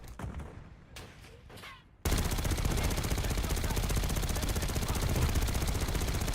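Sustained automatic gunfire in a shooting video game suddenly erupts and keeps going as a loud, dense rattle, after a few quieter shots and muffled sounds at the start.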